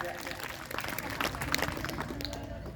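An audience at a Gayatri Mahayagya gathering breaks into applause, a rough wash of clapping under a speaking voice.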